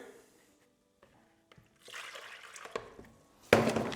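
Water runs and splashes into a bowl from about two seconds in, growing louder toward the end with a brief burst of pouring.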